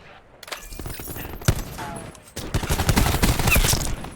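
Gunfire from a first-person shooter match at an esports event, with sharp shots followed by a denser burst of rapid automatic fire and breaking sounds that grows louder toward the end.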